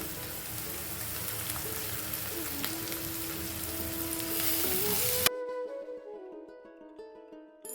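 Ginger garlic paste and coriander fry in a pan for soya curry, giving a bright, crackling sizzle for about five seconds before it cuts off abruptly, leaving only quiet music.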